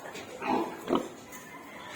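A freshly bred sow in her pen gives a couple of short, low grunts at close range, with a fainter sound near the end, over a quiet farmyard background.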